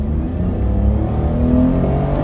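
A 2011 Chevrolet Captiva pulls out onto the road, its engine humming steadily with a rising, sustained drone heard close from inside the car.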